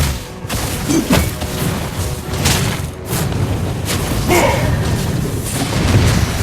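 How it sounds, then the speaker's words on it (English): A turret is destroyed in the mobile game Mobile Legends, with booming blasts and crashing impacts against dense, busy game sound effects. Several thumps and crashes land in quick succession, loud and close. "Our turret has been destroyed."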